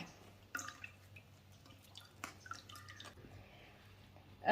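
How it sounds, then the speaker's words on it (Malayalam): Liquid from grated carrot and coconut squeezed through a strainer drips and splashes in a few sparse, quiet drops, with a soft squish and a louder burst at the very end. "ഇത് ഇതുപോലെ ഒരു അരിപ്പയിലിട്ട് നമുക്ക് ഒന്ന് അരിച്ചെടുക്കാം"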